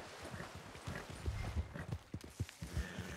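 Horse hooves clip-clopping in the Red Dead Online video game, a steady run of moderately loud footfalls with no talk over them.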